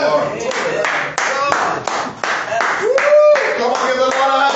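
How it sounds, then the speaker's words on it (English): Worshippers at a Word & Faith church livestream clap their hands in praise, loud sharp claps close to the microphone in a steady rhythmic beat, with a voice speaking and singing over them. "give the Lord a hand clap of praise"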